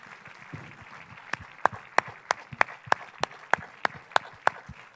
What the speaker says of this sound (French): Allez, plus fort les applaudissements.